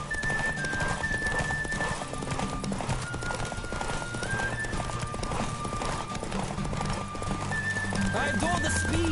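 Roach, a horse in The Witcher 3, gallops in a race with steady, rapid clip-clop hoofbeats close up, a whinny rising over the run, and game music and voices beneath.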